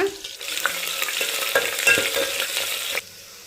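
Crushed garlic and curry leaves sizzle in a pan for a traditional drumstick-leaf bassaru, with a steady, close frying hiss and scraping stirs that stop abruptly near the end.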